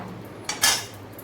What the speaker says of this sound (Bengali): তো দেখুন ডিমটা এখন নামিয়ে নিচ্ছি।